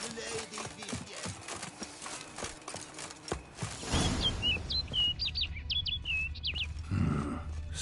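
Bright chirping bird calls in The Witcher 3: Wild Hunt, a quick run of short tweets in the second half, following earlier rhythmic horse hoof clip-clops and heavier thuds in the game scene.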